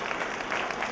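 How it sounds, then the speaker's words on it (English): Audience at a mind-reading stage show applauds steadily, a dense continuous clapping that fills the whole short moment with no voices above it. "let's give Riley a big round of applause as she makes her way up on stage"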